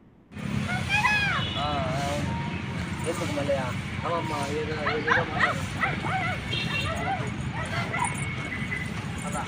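Stray dogs on the SV University campus bark and yelp repeatedly, fairly close, mixed with a busy outdoor background and people talking.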